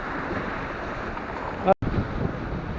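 Strong wind gusting at sea on a stormy day, roaring steadily into the microphone near the shore off Mersin while fishing, with a brief sharp dropout in the middle.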